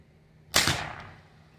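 A single sharp airgun shot cracks out loud and close, its report fading over about half a second of quiet before and after.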